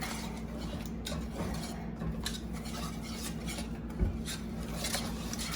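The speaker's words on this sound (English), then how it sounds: "And we're gonna whisk it." A whisk scrapes and stirs steadily through cheese melting into a sauce for soft pretzels, with soft metallic ticks against the pot and a single louder clink near the end.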